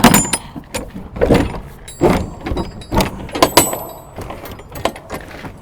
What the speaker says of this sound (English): on a reefer door, you have to open these together